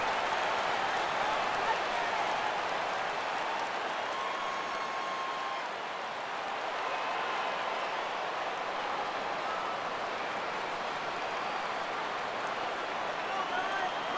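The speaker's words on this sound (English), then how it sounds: "Crowd gets up for the 3-2." A stadium crowd in the MLB 14: The Show baseball video game roars steadily for a full count, a dense wash of cheering noise throughout with a commentator talking over it.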